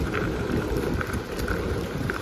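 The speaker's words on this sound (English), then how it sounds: "got windy all of a sudden" Gusty wind buffets a microphone while cycling along a paved and gravel stretch of the Hennepin Canal Parkway, a loud low rumble with rustling, no voices.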